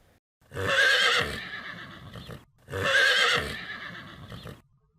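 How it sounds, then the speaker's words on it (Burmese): A horse neighs loudly and close by, two long whinnies in a row with a short pause between them. "မြင်းကိုတော့ငခဲလို့ခေါ်ပါတယ်"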